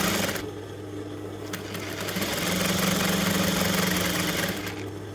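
A sewing machine runs steadily, stitching the lines of a smocked dress in one continuous motor drone that grows slightly louder toward the end, with no talking.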